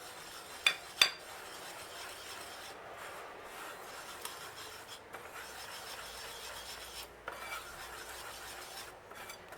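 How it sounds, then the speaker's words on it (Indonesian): Bread dough ingredients with salt and sugar stirred in a bowl for Korean cream cheese garlic bread, soft scraping and rubbing strokes, close, with a couple of sharp clinks near the start. "Lalu kita aduk-aduk hingga tercampur ya."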